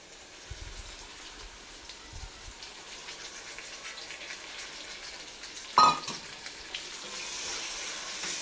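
Soaked moong dal with turmeric and chili frying in a pan makes a faint, steady sizzle, broken by one brief clatter partway through.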